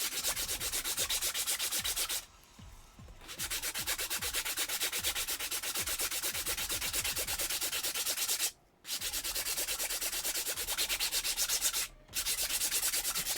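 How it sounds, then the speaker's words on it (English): A sanding block rubs back and forth over a commissioned prop in quick, even, rasping strokes, loud and close, with two or three brief pauses between runs. "These here snag on the sanding block"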